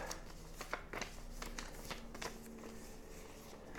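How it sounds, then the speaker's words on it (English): Soft, quick riffling and tapping of playing cards being shuffled close by for a solo game of Antinomy, a series of light papery flicks in an uneven rhythm. "just have a quick shuffle up"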